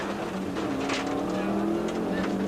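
A Subaru all-wheel-drive rally car drives a wet, slippery special stage at the Cape Rally 2001, its engine roaring continuously up close, with a commentator talking over the steady motor noise.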